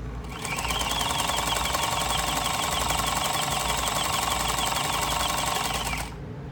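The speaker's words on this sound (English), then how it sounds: "put down my presser foot, and I can begin stitching" A sewing machine stitches through fabric with a fast, steady mechanical whir and rapid needle chatter, loud and close, running for about five and a half seconds before stopping.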